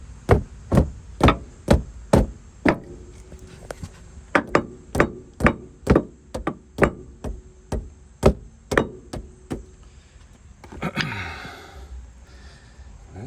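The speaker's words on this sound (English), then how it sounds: "Now I'm gonna hit it with the hammer here just to make sure it sits where it needs to be" A hammer strikes a bump stop being seated into the front suspension of a 2002 Jeep Liberty, about twenty sharp metallic knocks in a fast, even rhythm, close and loud, followed by a short scraping rustle.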